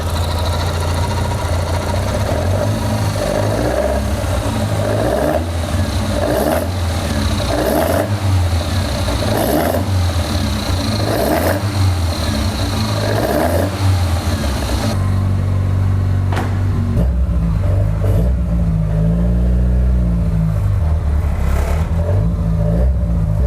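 A BMW E36 fitted with an M42/M44 four-cylinder engine runs steadily after starting, a loud close idle with a low rumble and slight rhythmic pulsing, the tone shifting partway through as the revs settle.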